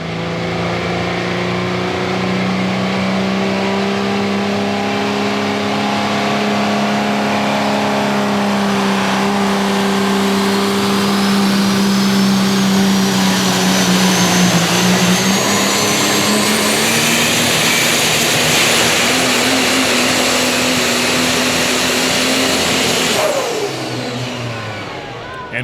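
A super stock diesel pulling truck roars loudly and continuously at a tractor pull, its engine note rising steadily in pitch under heavy load with a high turbo whine building before it drops off near the end.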